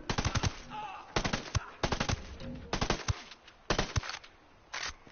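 Bursts of turret machine-gun fire in a video game, rattling out in rapid volleys about every second, loud and close, with short gaps between bursts.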